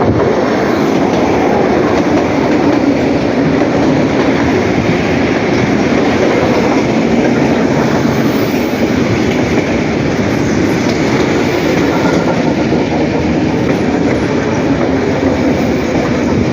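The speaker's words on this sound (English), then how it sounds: "This is a typical Russian small electric train." A small Russian electric train rolls along steadily, a continuous rumbling drone with faint rhythmic clatter of wheels on rails, close and loud throughout.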